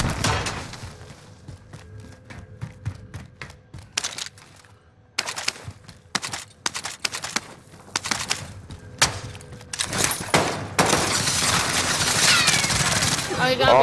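Rapid automatic gunfire bursts from Call of Duty Warzone, with repeated rattling volleys, some sustained stretches and brief pauses, loud and close.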